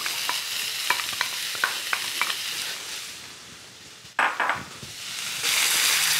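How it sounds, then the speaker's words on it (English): Red onion fries in olive oil in a pan, a soft sizzle with a series of wooden stirring taps, then a louder burst of sizzling as more goes in, close up. "So I'm going to begin by putting a bit of olive oil in the pan, a tablespoon or so, and in with our onion."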